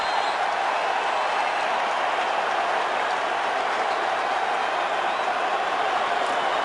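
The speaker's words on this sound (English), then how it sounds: "the huddle is begging this crowd to quiet down" A packed stadium crowd roars at a 2010 NFC Divisional Round playoff game between the Falcons and Packers, a dense, steady wall of cheering and noise that holds at constant loudness throughout without letup.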